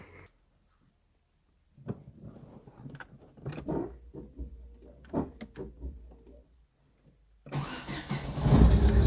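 A car engine is cranked and started after a silent pause, bursts of mechanical clatter and thumps through the middle, then a loud broadband engine roar rising at the end, close to the microphone.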